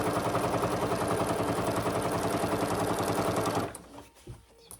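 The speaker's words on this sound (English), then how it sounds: "this needle and machine doesn't really like this Theratex. It's making a lot of noise. It's sewing it beautifully, but you can hear it." A sewing machine stitches Theratex fabric with a noisy needle, a loud, rapid, clattering run of strokes close by that cuts off, leaving a quiet tail.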